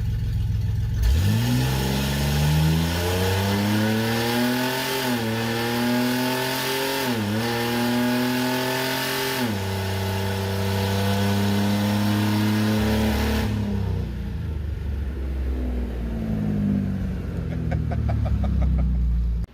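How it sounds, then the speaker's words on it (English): A race car engine on a dyno revs hard and climbs in pitch, drops briefly as it shifts, then climbs again through several gears before winding down. "let it probably run through first gear, second gear, third gear, and see how she does"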